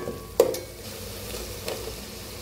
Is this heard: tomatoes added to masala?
yes